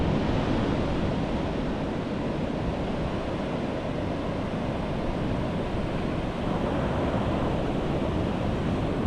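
Steady, broadband roar of surf breaking along the kilometre-long white sand of Miami Beach on Australia's Gold Coast, with wind buffeting the microphone; continuous and fairly loud with no voices.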